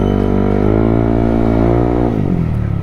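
A motorcycle fitted with a degree pulley accelerates on a road, its engine droning loud and close, the pitch climbing steadily before it eases off near the end.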